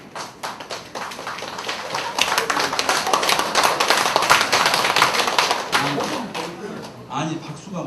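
Listeners at a lecture hall seminar burst into ragged, uneven applause that swells and then trails off, with a voice speaking over the clapping.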